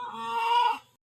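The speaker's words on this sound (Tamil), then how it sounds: "கோழிலாம் கத்த ஆரம்பிச்சிச்சிங்க புது இடம் மாற்றினதுக்கு." A chicken just moved to a new place lets out a single loud, close squawk of about a second that cuts off abruptly.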